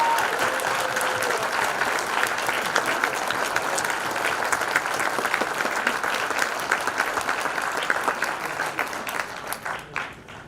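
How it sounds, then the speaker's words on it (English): Audience applause at an annual gala as honored guests stand: sustained, dense clapping from a large crowd, with a brief voice near the start, fading slightly at the very end. "so we can give them applause for them."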